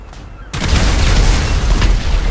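A heavy, sustained explosion in a video game train heist erupts after a quiet half second, a loud low rumble with crackling bursts that keeps rolling to the end.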